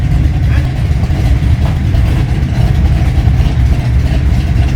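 A car's engine runs steadily at a car auction in Japan, a loud, continuous low rumble with a slight rise in revs, close to the microphone and with no talking over it.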